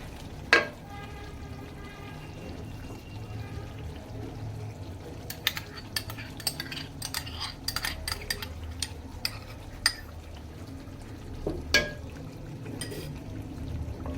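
Cream is stirred into chicken white korma in a pan: a spoon clinks and scrapes against the metal in irregular taps over a low, gentle simmer, with a sharper knock near the start and another later.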